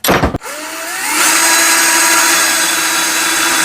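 A power drill spins up with a rising whine, then grinds steadily into a steel wheel, loud and close, after a brief clatter at the start.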